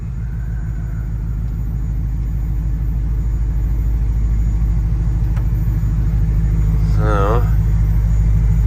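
A 1971 Ford F100 XLT Ranger Heavy Duty Special pickup truck drives along, its engine a steady loud low rumble throughout, heard from inside the cab.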